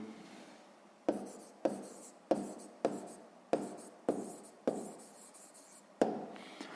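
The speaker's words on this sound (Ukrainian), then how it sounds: "Гаразд, записуємо відповідь." Pen or pencil writes out an answer to a sixth-grade maths exercise on paper, in a series of about eight short, crisp scratching strokes with brief pauses between them, close and quiet.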